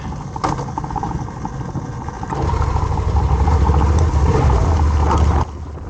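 A Yamaha Tenere 700 motorcycle engine pulls steadily in second gear on a downhill mountain trail. The drone rises in loudness partway through, then drops off near the end, with wind rumble and no talk.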